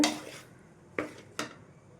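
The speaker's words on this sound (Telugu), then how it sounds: "ఈ మొత్తం కూడా కలిపేసుకుందాం విధంగా కలిపేసుకోవాలి మొత్తం కూడా కలిసేటట్టు" Egg fried rice with vegetables being tossed and mixed in a pan, three distinct spatula scrapes and knocks against the metal, close and fairly quiet, no speech.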